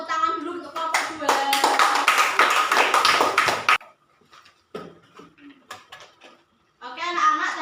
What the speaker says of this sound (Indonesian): Berikan tepuk tangan dulu untuk kelompok 2.